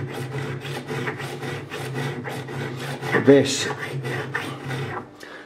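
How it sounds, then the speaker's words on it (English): Metal file rasping back and forth along the frets of an ESP MII thru-neck guitar during a fret level, a close rhythmic run of about a dozen strokes with a brief scrape near the middle. "I will just run across again with this file, just if there's any burrs on there"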